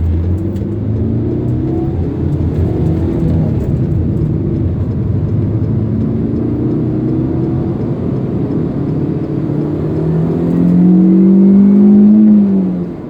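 Manual Proton Iriz 1.6 engine revving hard past 6,000 RPM in an older car with 44,000 km on it: a steady, droning engine note that climbs in pitch and swells louder toward the end, heard from inside the car with no talk.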